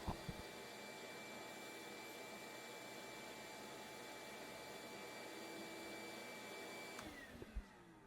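A shop vac fitted with an Oneida Dust Deputy 2.5 cyclone sucks up dust through an attachment, a steady high whining roar that holds for several seconds before spinning down, with a few knocks at the start and end.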